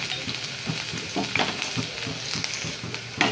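Finely chopped ginger and garlic sizzle in hot oil on a low flame, a dense crackling fry broken by repeated stirring scrapes. No one speaks.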